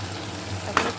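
Fish chochori with coriander stirred in a wok: a low, steady sizzle with a brief scrape of the spoon near the end.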